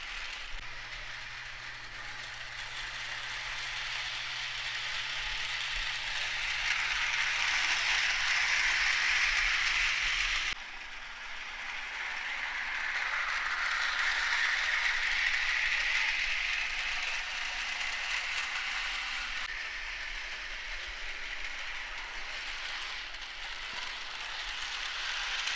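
A small HO scale model train hums and rattles steadily along its track for a long stretch, the whirring rising and easing as it passes by.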